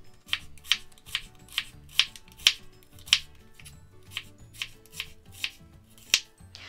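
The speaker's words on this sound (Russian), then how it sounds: "И перьями нарезаю лук." Rhythmic knife chops slicing an onion on a cutting board, about a dozen crisp strokes at a steady pace, close and fairly quiet, with no talking.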